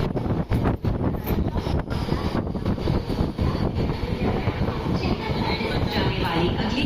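Pearl City Express train running toward Chennai Egmore, a steady loud rumble of wheels and carriages with wind buffeting the microphone throughout, continuous and close.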